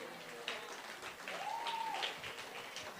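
Audience at a national teaching awards ceremony applauding, a faint, distant wash of clapping that rises and holds, with a brief whistle-like tone in the middle.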